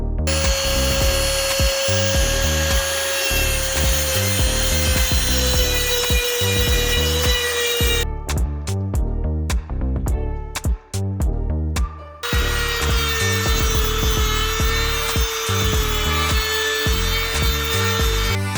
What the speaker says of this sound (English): we have the Dremel a little sanding bit on it